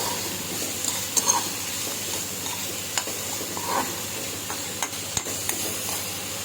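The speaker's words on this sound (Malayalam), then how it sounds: "ഇളക്കി യോജിപ്പിച്ച് ലോ ഫ്ലെയിമിൽ ഇതിനെ വേവിച്ചെടുക്കണം." Grated beetroot for thoran is stirred in a pan over a low flame, with a steady soft sizzle and hiss under scattered light scrapes and taps of the spoon against the pan.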